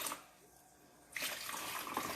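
Hot water is poured into a kitchen bowl, a soft splashing rush that starts after a short quiet pause and continues steadily, faint and close.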